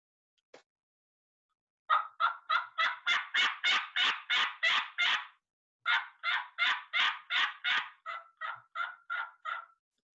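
A mouth turkey call yelps in quick rhythmic series, a run of about fourteen yelps, a short pause, then another run trailing off softer, alone and close.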